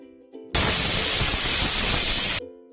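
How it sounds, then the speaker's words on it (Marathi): A pressure cooker on medium heat releases steam in a loud, steady hiss lasting about two seconds, close by, with soft tonal sounds just before and after. "कुकरचं झाकण लावून मध्यम आचेवर 2 ते 3 शिट्ट्या होऊ द्या"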